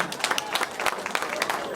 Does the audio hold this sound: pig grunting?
no